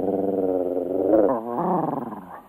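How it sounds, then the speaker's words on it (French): A dog growls low and steady at close range for a couple of seconds, the rumble rising briefly into a harsher snarl before trailing off. "Regardez ce chien. Il est motivé."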